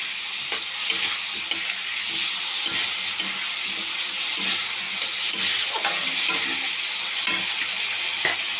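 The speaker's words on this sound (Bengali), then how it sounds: "আর দিয়ে দিচ্ছি কাঁচা লঙ্কা তারপর ভালো করে কষিয়ে আমি দিয়ে দেবো মাছের মাথা" Green chillies and fish head frying in a pan, a steady close sizzle with scattered sharp clinks and scrapes of stirring throughout, no talking.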